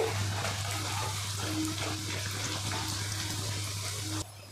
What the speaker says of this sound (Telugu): ఆయిల్ అయితే హీట్ ఎక్కేసింది ఇది వేసేద్దాము ఇలా ప్రెస్ చేయండి